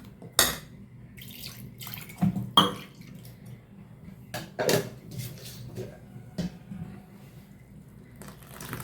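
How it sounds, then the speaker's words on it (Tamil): Water is poured from a mixer jar into a pot of street-cart style thanni chutney, with splashes and sloshing broken by sharp clinks of steel vessels and utensils. "இன்னும் கொஞ்சம் தண்ணி கலந்துடலாம்"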